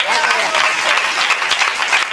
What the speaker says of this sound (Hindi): ये तालियों का शोर कहीं और देखूँगा